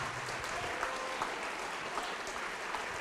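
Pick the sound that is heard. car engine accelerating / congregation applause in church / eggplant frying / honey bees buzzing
congregation applause in church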